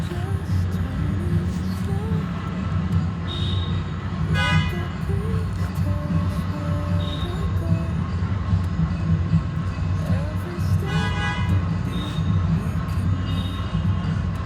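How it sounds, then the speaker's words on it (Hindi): Trains at New Delhi railway station, with a steady low rumble of engines and platform bustle, a couple of brief horn toots and metallic rattling bursts from rolling stock, close and continuous throughout. "तो फाइनली हम नई दिल्ली रेलवे स्टेशन पर पहुंच चुके हैं।"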